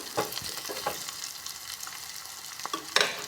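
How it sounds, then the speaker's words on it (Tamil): Onions sizzling and crackling in a hot pan, with occasional stirring scrapes, steady and moderately quiet, no voices. "இப்போ வெங்காயம் நல்லா வணங்கிட்டு இருக்கு இன்னும் கொஞ்சம் வணங்கட்டும்"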